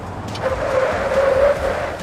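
An RV braking hard from 60 in an emergency stop, with a tonal tyre squeal and skid rising over engine and road rumble, loud and close, lasting about a second before easing.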